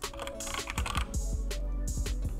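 Rapid clicking keystrokes on a computer keyboard, close and crisp, in a quick uneven burst of about a dozen taps.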